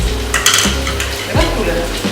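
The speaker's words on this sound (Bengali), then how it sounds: "এবার এটাকে ভালো করে ফ্রাই করে নিই।" A spiced rice mixture with mixed herbs fries in a pan, a continuous sizzle broken by scraping stirs and a low hum, with a faint voice briefly underneath.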